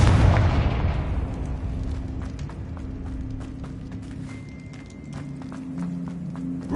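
In Hogwarts Legacy, a Confringo spell explodes with a heavy boom up front, then decays into a quieter rumble with scattered taps and game ambience.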